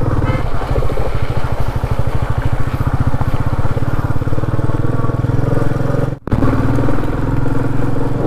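A motorcycle rides a steep mountain road toward Tungnath, its engine thrumming steadily and loud throughout with a rapid pulsing beat, briefly cut off near the end.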